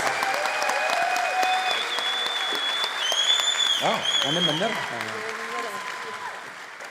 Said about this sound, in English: Give Lorie Ladd a round of applause.